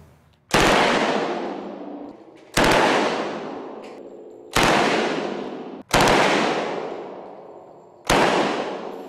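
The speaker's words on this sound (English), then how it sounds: "Dean, you want to shoot a Thompson submachine gun?" A Thompson submachine gun fires five loud, sharp single shots at roughly two-second intervals, each blast ringing out with a long decaying echo, close to the listener and with no talking.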